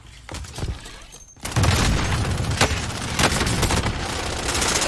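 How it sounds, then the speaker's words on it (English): A stun grenade going off in Warzone, a sharp burst that jumps into a loud, sustained crackling roar with repeated sharp hits layered over it, close and dense, no voices heard. "Stun grenade out."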